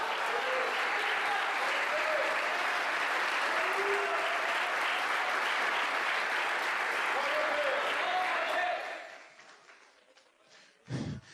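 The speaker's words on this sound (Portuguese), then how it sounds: "Palmas a Jesus." A church congregation claps loudly and steadily for several seconds, a thick wash of applause that suddenly drops away, leaving faint room noise and a brief sound at the end.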